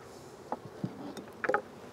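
Honey bees on hive frames make a faint buzzing hum with a few louder passes as single bees fly close to the listener.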